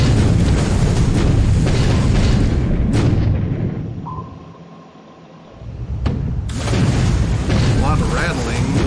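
Depth charges explode against a Japanese I-2 submarine in the War in the Pacific naval strategy game, loud rumbling booms that fade into a brief lull before the blasts return, with a voice talking over them.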